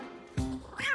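A cartoon cat gives a short meow-like call, loud and close, with a second rising cry right after it.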